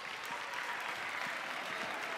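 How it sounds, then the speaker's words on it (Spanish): Applause for Botillo at a youth event, a steady wash of clapping from a crowd heard at a moderate distance, continuous throughout without speech. "Un aplauso para Botillo, que está a gusto."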